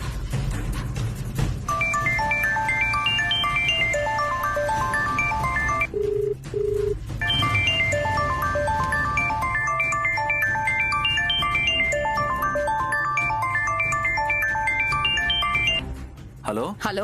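A phone ringtone for an incoming call in a Telugu TV serial plays as a loud, bright, repeating electronic melody, broken by a short pause and a pair of steady beeps before the melody resumes under background music.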